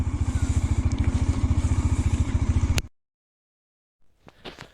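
Bajaj Dominar 400 motorcycle engine running on a snowy road near Kufri, Shimla, a steady loud rhythmic throb for nearly three seconds that cuts off abruptly, followed by silence and faint low rumbling.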